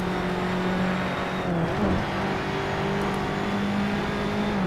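A race car engine in Assetto Corsa drones loud and close with a steady, sustained pitch that dips briefly mid-run before holding again, accompanied by a broadband road roar.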